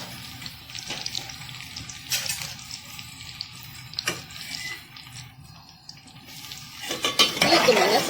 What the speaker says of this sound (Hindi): अब ये मैं इसमें डाल रही हूँ सारे मसाले